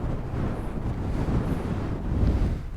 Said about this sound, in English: Oh, it's a lovely night, or a lovely evening. It's so windy.